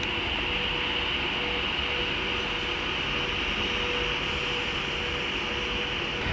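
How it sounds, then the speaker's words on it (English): An Avanti West Coast express pulls out of Stafford station on the West Coast Main Line, its steady, loud rumble and motor drone holding without a break. "Now departing is the 1524 Avanti West Coast service from London Euston to Liverpool Lime Street."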